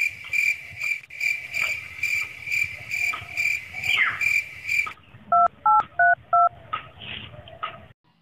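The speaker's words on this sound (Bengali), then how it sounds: "আপনি যেখানে সিমটি ফোন করেছে এখানে ব্যালেন্স নাই" Four short, even keypad dialing beeps sound on a phone, close and distinct, right after a stretch of steady, high cricket chirping with a repeating electronic tone.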